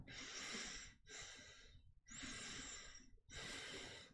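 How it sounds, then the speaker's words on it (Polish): A person demonstrates shallow breathing: four loud, close, breathy bursts in a steady rhythm, each separated by a brief silent gap. "podczas gdy płytkie oddychanie wygląda tak"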